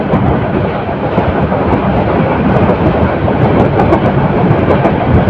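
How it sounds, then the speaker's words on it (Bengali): A Titas Commuter local train runs on rails at night from Dhaka toward Akhaura, a loud, dense, continuous rumble and rattle with faint clanks on top and no pauses. "লোকাল ট্রেনের গতি অনুযায়ী মোটামুটি ভালো গতিতে ছুটে চলছে"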